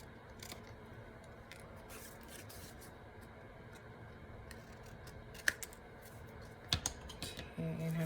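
Scissors snip through paper tags in a series of quiet, close, crisp cuts, with faint scraping and handling noises between them.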